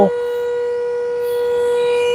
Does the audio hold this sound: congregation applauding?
no